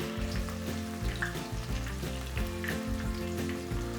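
Vegan tofu spring rolls fry in a shallow bath of oil at about 140–150 degrees, giving a steady, soft sizzle heard under continuous background music.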